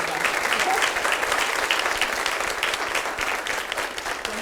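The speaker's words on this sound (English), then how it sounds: "All right, a round of applause," A health communication summit audience gives a round of applause, many hands clapping in a thick, sustained burst that stays loud throughout and eases slightly toward the end.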